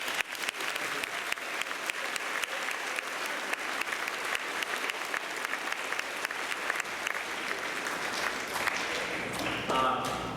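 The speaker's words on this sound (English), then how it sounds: "Let's give them a thank you round of applause." A school assembly audience applauds veterans with sustained, dense clapping that runs steadily for about ten seconds, with some crowd voices mixed in.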